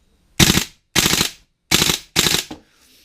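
Vipertech Centurion Arms M4 airsoft rifle fires four short full-auto bursts, each a rapid buzzing rattle of shots lasting about a third of a second, separated by brief pauses, close and loud.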